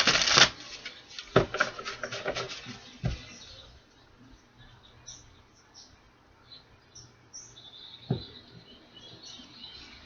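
Tarot cards are shuffled in quick bursts of riffling and slapping near the start, then a softer lone flick a few seconds later, close and fairly quiet.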